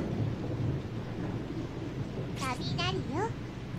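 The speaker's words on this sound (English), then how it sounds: "It's just thunder." Rumbling thunder within a steady wash of rain in the horror video game Corpse Party Blood Covered, a continuous low roar with a few bright chirping effects near the end.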